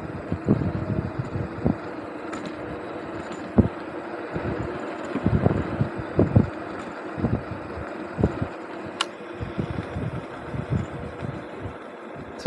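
A Caroma P1 hybrid scooter rides at top speed outdoors, with a loud, rumbling wind and motor roar broken by repeated heavy thumps and knocks from the road.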